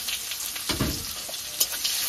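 Chopped onion fries in hot oil with dried red chilli, cardamom and cumin, making a loud, close, continuous sizzle. A spatula stirs and scrapes through it with a few knocks.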